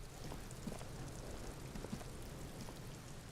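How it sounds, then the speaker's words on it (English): Soft rainfall in Disco Elysium, a quiet, steady hiss with scattered drop ticks that carries on evenly and has no voices over it. "it's starting to rain"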